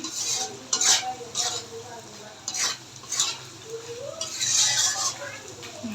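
Masala and potatoes sautéing in oil for a katla fish curry, a spoon scraping and stirring in bursts against a pot over a low steady sizzle, close and fairly loud.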